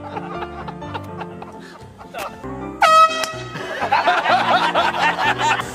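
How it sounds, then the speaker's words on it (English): A marine sport air horn blares a loud, sharp blast at a golfer mid-swing, cutting through nearby chatter and laughter before voices carry on. "Someone blew the air horn right in my swing."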